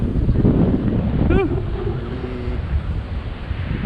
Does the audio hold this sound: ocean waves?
yes